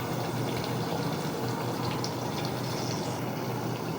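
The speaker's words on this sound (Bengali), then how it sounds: "এগুলো একটু এখন সিদ্ধ করে নিচ্ছি, জাল দিয়ে নিচ্ছি, একটু কষিয়ে নিচ্ছি যাতে রান্নার সময় টেস্ট ভালো পাওয়া যায়" Ground spice paste for a hilsa fish curry simmers and fries in a pan, giving a steady, dense sizzle and bubbling that holds evenly throughout without any voices.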